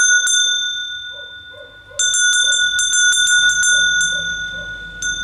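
A small metal harness bell for sheep rings out clearly, starting with a single strike and then ringing in a rapid, bright series of jingles close to the listener.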